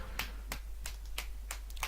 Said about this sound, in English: The sound of clapping suddenly echoes through the room